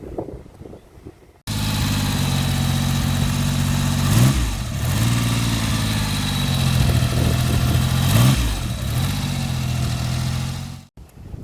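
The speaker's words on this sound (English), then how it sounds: "the unique thing about these bikes are the triple megaphones on the back of them, which look fantastic and they sound great as well" A 1973 Triumph Hurricane motorcycle with triple megaphone exhausts idles steadily up close, its engine blipped twice into short revs before settling back, with no talk over it.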